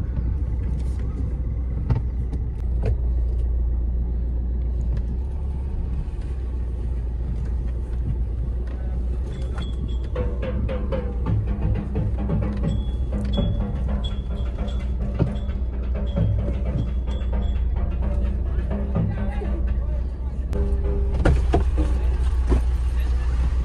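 A car drives along a road in India on the way to a Ganesh installation, a steady low engine and road rumble running throughout with scattered knocks and rattles, under occasional talk.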